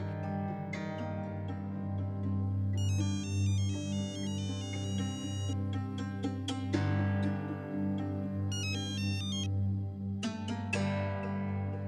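A mobile phone ringtone plays through a Marathi TV serial scene: a looping electronic melody with repeated bright chiming bursts over a steady musical bed, loud and continuous, with no talk over it.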